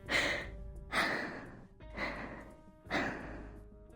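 A sleeping character in the game Reverse: 1999 breathes heavily, with four slow, loud, rasping breaths in an even rhythm and quiet pauses between them.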